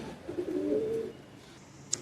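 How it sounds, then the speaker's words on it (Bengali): A male high-flying Madrasi pigeon at a Kolkata loft gives one low, throaty coo of about a second, close and clear, then quiet apart from a brief faint chirp at the end. "এটা মেল আছে একটা মেল পায়রা"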